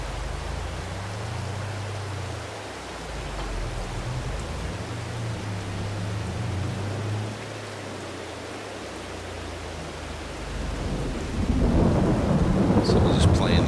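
Rain and thunder in Farming Simulator 22 on the Elm Creek map: low rolling rumbles swell and fade over a constant hiss of heavy rain, which grows louder and denser toward the end.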